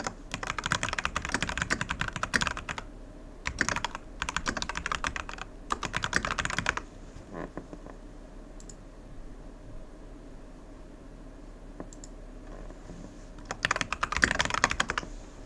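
Bursts of fast computer keyboard typing mixed with controller button clicks during an Elden Ring session, loud and close in several clusters separated by quiet gaps, with no talking.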